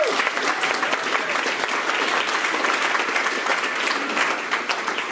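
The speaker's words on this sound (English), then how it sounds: "Everybody give a round of applause for the Elixir Outlaws." An audience at a live podcast recording at a programming conference gives a round of applause for the Elixir Outlaws: continuous dense clapping, loud and close, with a few faint voices mixed in.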